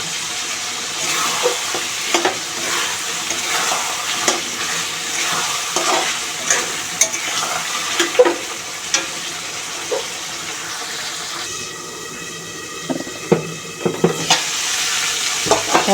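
Chicken and taro (mankochu) stirred in a cooking pan, a low simmering sizzle under repeated scraping strokes of a spoon against the pan, close and steady, with a brief lid or utensil clink near the end.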